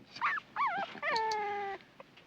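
Puppies on the set of the 1978 film Devil Dog give a few short, rising whimpers, then one longer, high, sustained whine, close and fairly clear over a quiet background.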